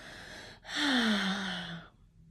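A deep breath drawn in during a guided relaxation exercise: a single soft, close inhale lasting about a second, with a short breathy lead-in just before it and quiet afterward.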